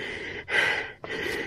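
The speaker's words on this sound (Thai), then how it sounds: "ได้ยินเสียงหายใจผมอ่ะ" A runner climbing a hill on a hot, humid day breathes hard, with two heavy, rasping exhalations close to the microphone and a short pause between them.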